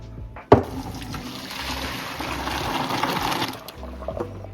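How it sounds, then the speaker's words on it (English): Cooked pasta noodles are poured into a strainer as a steady rush of water drains away for a few seconds, starting with a sharp clatter, close and fairly loud with no talk. "And then I'm going to strain the noodles."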